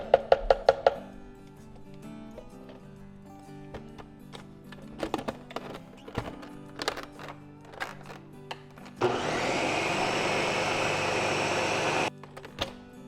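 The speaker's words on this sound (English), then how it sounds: "I'm gonna pop the lid back on and blend it again" A blender whirs steadily for about three seconds as it purees cottage cheese queso with seasoning, preceded by sharp clicks and taps of the lid being put back on.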